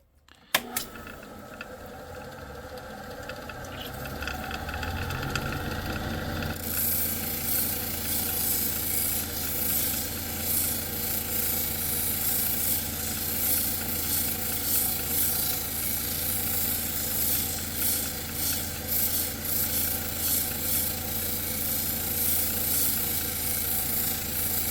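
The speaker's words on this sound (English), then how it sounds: "constantly dry my stones to see the progress of the sanding process" A steady grinding rasp of a tool being worked on a wet sharpening stone wheel, starting quietly and rising to a constant loud abrasive drone with a motor hum underneath, no talking.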